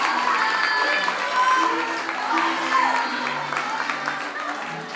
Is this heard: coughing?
no